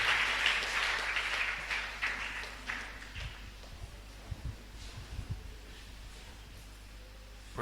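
A church congregation applauds for Jesus Christ, a burst of clapping that fades over a few seconds into scattered, fainter claps and quiet.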